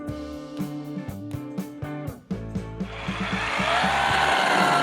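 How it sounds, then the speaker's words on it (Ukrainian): A small battery-powered chainsaw whines steadily over background music, then revs up into a louder, rising buzz for the last couple of seconds, cutting firewood in a forest. "Перше пилку включи, потім приставиш до дерева."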